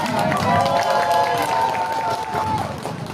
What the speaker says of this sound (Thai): ยกทั้งจังหวัดมาแล้วขอเสียงปรบมือให้ทุกคนอีกครั้ง